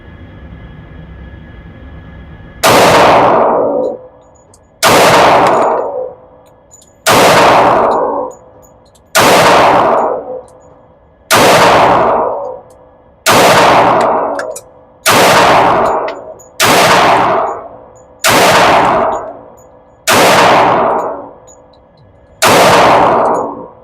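Eleven evenly spaced, loud pistol shots from a Sig Sauer xTen at an outdoor range, each sharp crack followed by a brief ringing decay as it strikes a large steel target, about two seconds apart.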